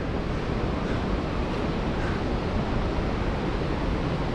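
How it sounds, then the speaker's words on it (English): A large waterfall on the Mist Trail thunders as a steady, dense, unbroken rush of water, loud and constant throughout with no voices. "Waterfall right up there."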